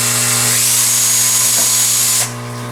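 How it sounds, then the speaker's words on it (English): A power drill bores a hole for a corner nut slot in a greenhouse build, giving a loud, steady high whine with a low motor hum for about two seconds before it spins down. "So we're just going to drill a hole right here, which will feed the corner nut slot."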